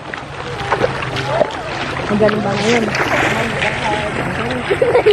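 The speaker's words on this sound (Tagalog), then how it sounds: "Parang lakas ng tubig, ah." A strong flowing creek rushes steadily as a broad wash of water noise, with people talking close by over it throughout.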